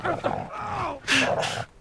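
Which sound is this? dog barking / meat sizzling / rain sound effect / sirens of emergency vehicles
dog barking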